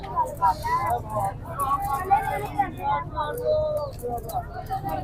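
Pigeons coo in soft, repeated warbling calls throughout at a pigeon market in Lahore, with a steady hum of traffic and background chatter underneath.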